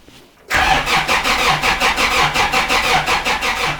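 A Kioti DK55C tractor diesel engine cranks and fires after a head gasket replacement. After a brief quiet moment it catches and settles into a loud, steady, rhythmic chugging at close range.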